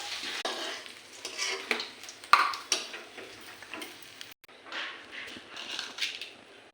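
Fish frying in a pan, a home kitchen setting with Odia-style fried fish: a steady crackling sizzle with scattered pops and brief clinks, moderately close and continuous throughout.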